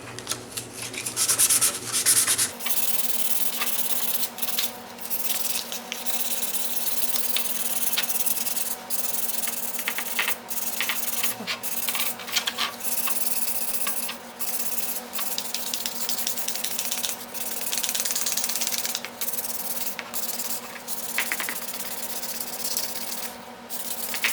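Sandpaper scrapes by hand over a short rusty patch of a motorcycle muffler with 600-grit paper, a steady run of rough strokes that keeps a rhythmic rubbing texture, close and continuous with no talking.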